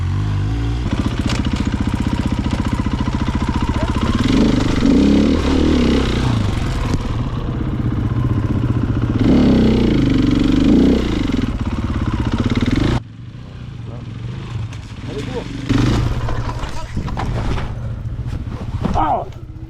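A motorcycle engine labours and revs while climbing a steep uphill track on a rough trip in Morocco, a steady loud mid-pitched drone with surging throttle bursts and clatter, under people talking.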